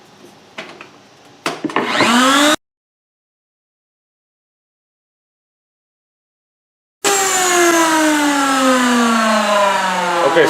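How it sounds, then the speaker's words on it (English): A power router rounds over the edge of a wooden cheese board, spinning up with a rising whine, then cutting in loud, sustained bursts broken by a sudden silent gap. "So I'm going to route that and then I'll show you the difference."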